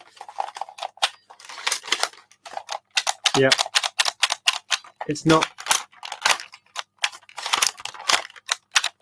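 An old Nerf toy gun with a failing spring mechanism gives off a rapid series of dry plastic clicks and rattles that never fire, with brief speech heard nearby.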